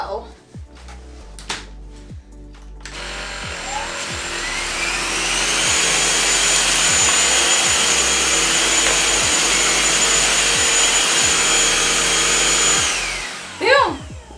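A Kenmore DS1030 vacuum cleaner runs on the floor, a loud sustained whine that starts after some clicks and handling, holds steady for several seconds, then shuts off.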